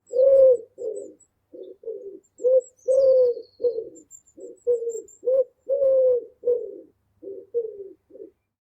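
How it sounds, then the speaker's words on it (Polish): Repeated soft, low cooing phrases from a pigeon, about a dozen rounded calls in an uneven rhythm, close and clear with faint chirps in the background. "Oczywiście, jak to gołąb, grucha, podobnie do miejskiego."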